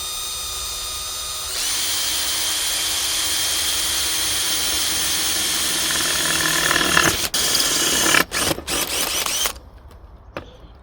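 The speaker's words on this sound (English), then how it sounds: "Just drill a hole straight through that" Electric drill fitted with a 5mm bit boring a hole straight through a piece at an allotment, a steady high whine running for several seconds, then stuttering and cutting out in short bursts before stopping.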